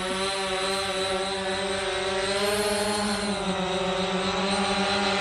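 A JJRC X17 RC drone flies close by with a loud, steady, high motor whine that holds throughout with only slight shifts in pitch.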